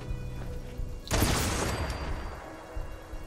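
A single gunshot from the video game Fallout 4 bursts out loud and sudden, then fades into a rumbling tail over low background game sound, with no speech.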